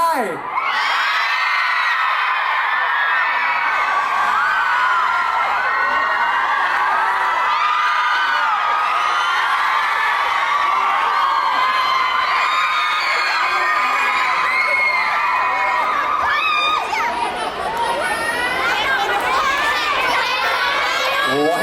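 A large crowd cheers and shouts loudly and continuously, with children's high-pitched yells and whoops rising above the roar throughout.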